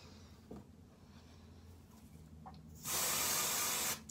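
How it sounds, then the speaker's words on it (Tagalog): A continuous aerosol hiss of L'Oreal root cover up spray being applied to hair lasts about a second, loud and close after a quiet stretch of faint room noise. "I-spray nyo lang."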